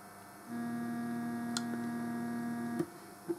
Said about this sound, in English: And there's our noisy preamp.